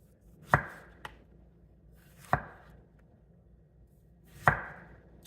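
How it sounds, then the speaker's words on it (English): A knife cuts through a green tomato laid flat on a cutting board, three distinct sharp chopping thuds spaced a couple of seconds apart, close and clear over quiet background. "I'm gonna lay it down flat so I can get a good slice on it."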